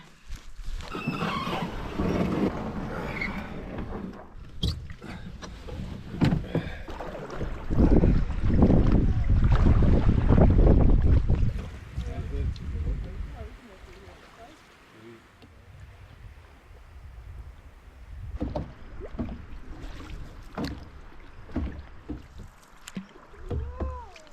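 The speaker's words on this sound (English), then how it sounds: "I'm in a birch bark canoe" Paddling a birch bark canoe on the French River in Northern Ontario, with paddle strokes and water sloshing against the hull, close and fairly loud at first, then quieter with light wind noise and occasional talk.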